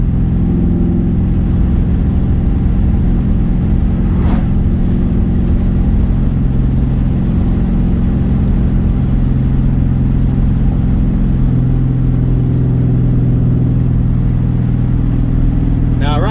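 A GT car cruises along a country road in fourth gear, its steady engine drone and road rumble continuous and close throughout, with a brief click partway through.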